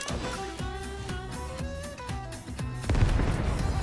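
Grenade explosion in Fortnite, a booming blast bursting in near the end over a steady bed of game music and tones, with no talk.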